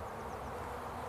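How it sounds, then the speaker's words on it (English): Honeybees in a small, weak hive colony with a few bees bringing in pollen give a steady, close, low buzzing hum that holds evenly through the short stretch. "I can see bees down there with some pollen on"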